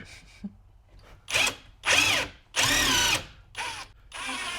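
A power drill fitted with a countersink bit whirs in several bursts, revving up and winding down between short pauses, close and loud.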